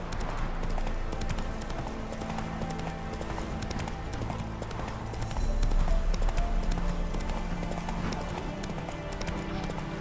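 Hooves of Geralt's horse Roach clip-clop steadily in The Witcher 3 game, a continuous dense trotting rhythm over low ambient rumble and a music bed, getting somewhat louder in the middle.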